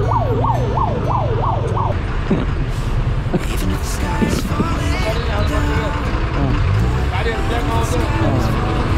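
A wailing ambulance siren sweeps up and down amid loud night traffic jam noise and honking, with people talking nearby.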